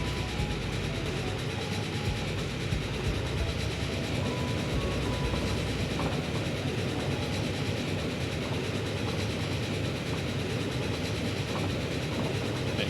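A train hauling three Pullman cars in Transport Fever 2 rumbles along the rails in a steady, continuous roar with faint clickety-clack, heard on its own at a constant moderate level.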